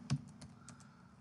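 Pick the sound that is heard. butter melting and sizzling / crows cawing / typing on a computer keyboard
typing on a computer keyboard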